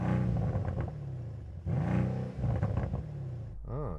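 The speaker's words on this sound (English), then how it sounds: "Let's have a listen to the C63 coupe." A Mercedes-AMG C63 coupe engine revs repeatedly against a soft limiter in loud, close bursts, each rising and falling, with a raspy rumble and a short lighter blip at the end.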